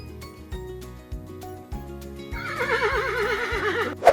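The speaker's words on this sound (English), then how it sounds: "Horse." A horse whinnies loudly with a wavering, descending neigh that ends in a short snort, over a bouncy children's music backing with a steady thumping beat.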